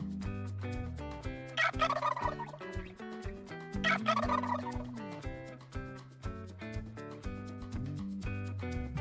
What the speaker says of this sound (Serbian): Nije bilo teško. To je ćurka.